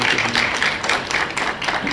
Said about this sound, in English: We can give him a warm round of applause to thank him as well.